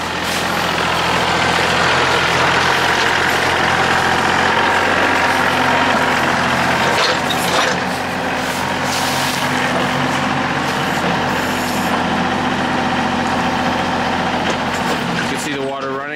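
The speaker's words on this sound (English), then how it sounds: "So this tractor's been a workhorse here." A tractor digging a drainage ditch at a new house runs steadily with a loud, throbbing low engine drone throughout, rising briefly in places, with a rattling mechanical note near the end.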